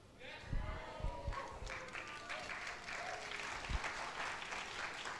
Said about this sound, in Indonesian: Dari tepuk tangannya